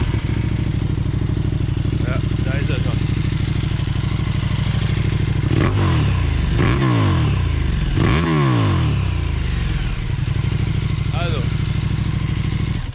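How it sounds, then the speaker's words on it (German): A KTM 1290 Super Duke R with an aftermarket Akrapovic exhaust runs steadily with a deep, throaty note, blipped into several sharp revs that rise and fall. "Der Akrapovic aus dem Zubehör, den können wir mal einmal anmachen, wie der sich so anhört."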